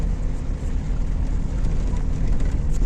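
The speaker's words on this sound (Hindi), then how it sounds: "एक और गाड़ी आ रही है, गाड़ी क्या बस लग रही है मुझे" A bus with one headlight out approaches on a night road through a tiger reserve, a low steady engine rumble that swells slightly as it nears, with no talk over it.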